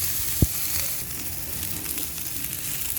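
Food sizzling in a small amount of cooking oil, a steady broadband crackle near the pan with a single low knock at the start and another near the end, no voices.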